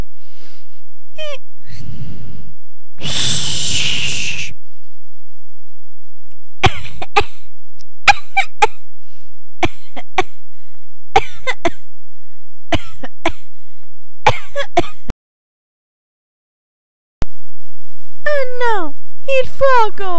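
A cartoon smoker coughs repeatedly in harsh, wheezing bursts while animated lungs react, with short gasps and voiced cartoon chatter around the fits and a brief pause of silence near the end.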